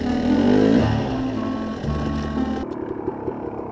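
A KTM enduro motorcycle engine, a 250 or 300 two-stroke, revs close up in second gear, buzzing loud then dropping to a rougher, uneven idle over a few seconds.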